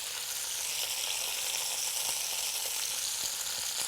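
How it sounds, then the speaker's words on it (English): Chicken pieces brown in a Cuisinart MSC-600 3-in-1 Cook Central 6-quart multi cooker, giving a steady, close, hissing sizzle with faint crackles and no talking. "You can really hear it sizzling"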